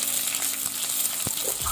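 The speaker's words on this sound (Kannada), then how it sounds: "ನೆಕ್ಸ್ಟ್ ಈಗ ಇದಕ್ಕೆ 1 ದೊಡ್ಡ ಈರುಳ್ಳಿಯನ್ನು ಹಾಕೊಳ್ಳಿ ಒಗ್ಗರಣೆಗೆ." A large onion goes into hot oil with crushed garlic for tempering an eggplant dish, giving a close, steady sizzle with one or two spatula knocks against the pan.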